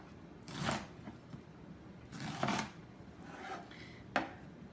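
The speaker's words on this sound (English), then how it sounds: "Then again the other way, and you should have a nicely chopped onion." A knife chopping an onion on a cutting board, heard as a few soft, separated cuts and scraping strokes over quiet room background.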